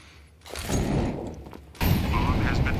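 Counter-Strike 2 match with gunfire and a grenade blast, two heavy bursts of shots and a thudding explosion mixed with busy game noise, moderately loud.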